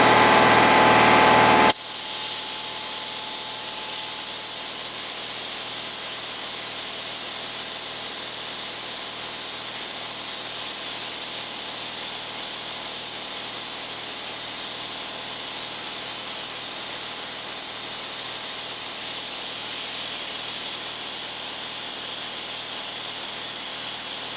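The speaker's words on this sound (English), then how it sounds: "when it starts sucking air, the hose starts to vibrate because it's sucking air" Oil extractor hose sucking air from a car engine after the oil has been drained, a loud, steady hiss like rushing air that runs unbroken and close-up for over twenty seconds.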